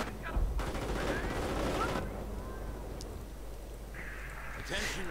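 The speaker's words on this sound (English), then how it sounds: "MG cleared out again. Grenadiers need to get out there. Mortar fire from Wewannawin" Gunfire and mortar blasts from a real-time strategy war game, bursts of shots and dull explosions spread through the clip beneath continuous commentary.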